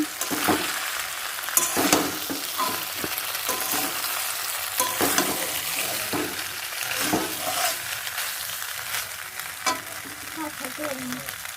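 Pasta cooking in a pan sizzles steadily and loudly while a utensil stirs through it with irregular scraping strokes, close up and with no voices.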